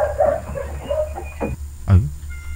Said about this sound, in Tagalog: Mas malakas pa yung aso.